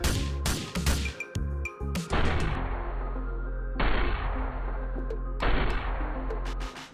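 Semi-automatic assault rifle fire in GTA 4, with a few loud, sharp shots up front and then a couple of heavy bursts with long ringing tails, close and alone.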